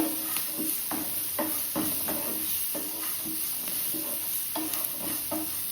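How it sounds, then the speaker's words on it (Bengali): Vegetables frying in a hot pan make a steady, close sizzle, while a utensil scrapes and stirs through them in a loose repeating rhythm. "দেখো এখানে সবজি ভাজা হচ্ছে"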